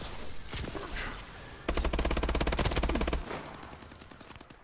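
Gunfire in Call of Duty: Advanced Warfare, a rapid automatic burst of evenly spaced shots lasting over a second, loud and close after quieter scattered game sounds.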